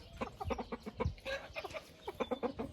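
A large rooster clucks in a quick series of short, fairly close calls, with no talking.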